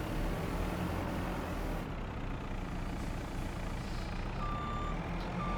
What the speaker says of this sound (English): I really do like this lorry